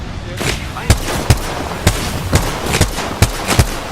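Repeated gunshots from an Apex Legends match ring out about eight times at an uneven rhythm, each a sharp crack over a steady bed of in-game ambience.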